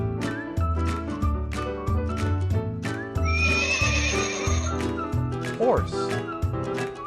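A horse neighs loudly in the middle of a steady clip-clop of hooves, with a lively music bed underneath and a brief squeaky whinny-like rise near the end.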